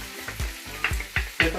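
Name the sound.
chicken pieces frying in a pan for adobo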